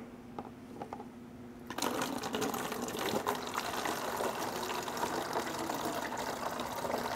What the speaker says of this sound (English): I want to fill my empty jug about halfway with water.